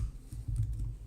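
Keyboard keys tapped for a Control M shortcut during a Swift programming session, a few soft close clicks over a low steady room hum.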